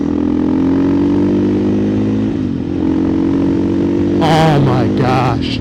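2024 KTM EXC-F 500 TPI fitted with an FMF muffler, a loud close single-cylinder drone holding steady at speed, dipping briefly, then a voice speaks over the engine near the end.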